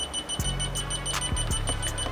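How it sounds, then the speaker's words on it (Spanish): A Crow Runner alarm control panel emits steady electronic beeping tones while it communicates, sounding close and fairly loud, with brief clicks and soft thumps underneath and no voices. "el panel suena que está comunicando"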